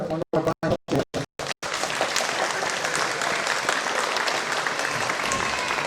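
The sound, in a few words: applause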